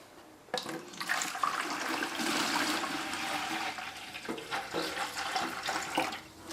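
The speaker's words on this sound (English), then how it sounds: "I'm going to put a little water in there." Water is poured into a homemade mouse trap, a steady splashing gush that starts abruptly and runs on for several seconds, close and fairly loud, with slight surges and a brief dip near the end.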